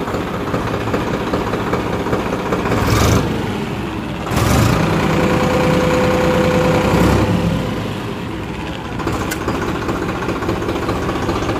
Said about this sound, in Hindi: एक बार मैं आपको इसकी आवाज़ सुना देता हूँ स्टार्ट करके ट्रैक्टर की।